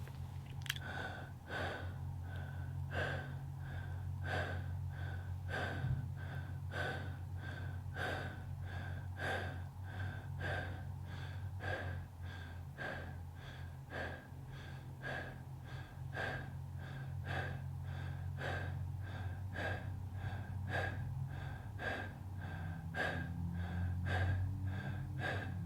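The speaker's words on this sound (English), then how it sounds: "Let's take these 25 connected breaths together." Deep connected breaths in a guided breathing exercise, each inhale and exhale following the last in a steady, even rhythm, heard close and quiet with a low hum underneath and no talking.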